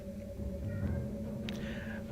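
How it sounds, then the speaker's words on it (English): A house cat meowing to be let back inside, with a couple of faint, short meows heard at a distance over a steady low background hum. "A certain cat wants to be let back in."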